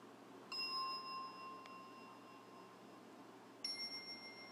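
Salvation Army style bell ringing played from an iPhone app, two clear metallic bell strikes with long ringing tones, the first near the start and a second about three seconds later, alone over faint room noise.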